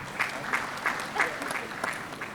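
An audience at a mobility conference session clapping: fairly faint, scattered applause with a few distinct claps standing out in a loose rhythm, heard at a distance.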